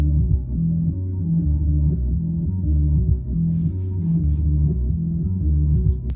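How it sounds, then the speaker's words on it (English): A heavy metal guitar riff, sped up, chopped into fragments and filtered for a drum and bass track, plays alone as a loud, dense, throbbing low-end loop with steady repeating rhythm. "This is the riff dry, but it's kind of really cut up."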